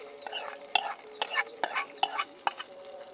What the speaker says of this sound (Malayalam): ഇനി നമുക്ക് നമ്മുടെ തൈര് കറിയിലേക്ക് അങ്ങോട്ട് ഒഴിച്ചു കൊടുക്കാം.